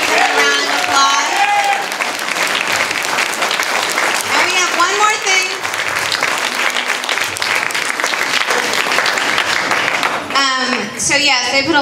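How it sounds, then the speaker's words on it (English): Loud, sustained applause from a large audience at a presentation, steady clapping filling the space with some cheers and voices mixed in. "please give them a round of applause"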